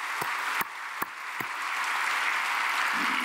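A church congregation applauds, a steady, fairly distant wash of clapping with a few sharp close knocks near the start.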